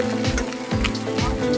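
Capsicum and onion frying in a kadai for chilli paneer, a steady close sizzle and crackle with stirring scrapes, with no voices in it.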